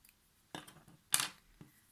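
Scissors snipping crochet yarn on a starfish amigurumi, two quiet close clicks with a fainter third, in a nearly silent room.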